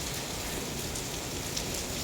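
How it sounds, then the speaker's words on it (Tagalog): Steady rain falls continuously with a dense hiss of drops, close and even, no voices. "Umuulan, umuulan. Araw-araw umuulan."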